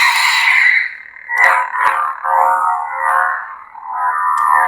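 A Korbanth Malak neopixel lightsaber with a CFX board running a stock sound font, giving a loud warbling electronic hum with swelling, wavering tones and sharp crackling clash-like bursts, heard alone.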